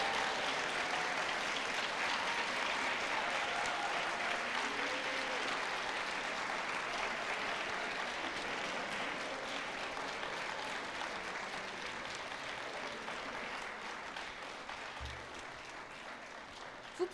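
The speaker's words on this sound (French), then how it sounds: "Mesdames, Messieurs, applaudissons nos diplômés" A graduation ceremony audience at a university science faculty applauds the graduates at length, a broad, sustained roar of many hands that stays strong for well over ten seconds and eases slightly toward the end.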